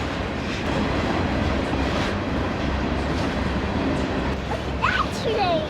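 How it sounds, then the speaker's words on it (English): A big freight train rolls past on the railway tracks in a continuous loud rumble with rhythmic wheel clatter, close by, while a few voices and a brief squeal come through near the end. "That's a big train."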